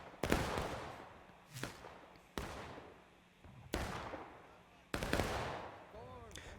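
Five heavy booming blasts of artillery fire in a Civil War battle game, each sharp crack spaced roughly a second apart and decaying into a long rumbling tail, with faint scattered gunfire in the background.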